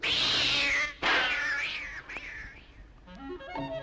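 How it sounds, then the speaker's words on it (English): A black cat meows and yowls in several drawn-out, rising and falling cries, fairly close and alone, as a Halloween trick-or-treat record sound effect. "scaring any black cat who might try to cross my path."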